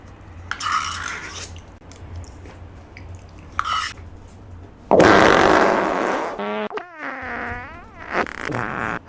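A fart bursts out loudly at mid-clip, followed by wobbly squeaky tones and clattery noises, with quieter scattered sounds before it.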